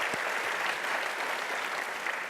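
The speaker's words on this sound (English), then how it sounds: "we should clap for that" Audience applause at a business talk, a steady dense burst of clapping from a large crowd, fairly distant and even throughout.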